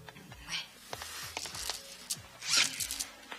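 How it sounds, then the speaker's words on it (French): A zipper is pulled open on a dress, with several scratchy, rasping zips close by amid rustling fabric and indistinct voices in the background. "Rebecca, tu m'ouvres la fermeture éclair."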